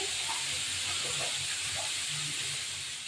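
Hilsa fish pieces frying in a pan make a dense, constant hiss of hot oil, steady and fairly close throughout.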